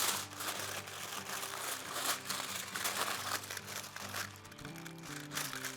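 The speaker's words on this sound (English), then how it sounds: "Got some heavy duty foil." Heavy duty foil crumples and crinkles as barbecue ribs sauced with vinegar are wrapped, a steady dense rustling with scattered crackles, close and fairly quiet.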